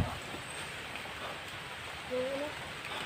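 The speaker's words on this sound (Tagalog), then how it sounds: "ang lakas na ng ulan guys" Heavy rain falling, a dense continuous hiss throughout with a voice speaking briefly near the end.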